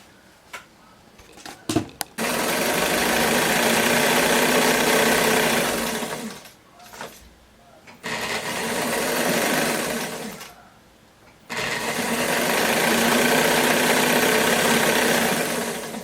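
A sewing machine runs steadily in long, loud bursts while stitching the bottom seam of a dress sleeve, stopping briefly twice between runs.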